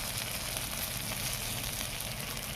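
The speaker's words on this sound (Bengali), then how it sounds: "আমার পাতা ভাজা হয়ে গেল" Ash gourd leaves fry in a hot pan, giving a steady, loud, dense sizzle with crackling oil that continues without a break and without any voices.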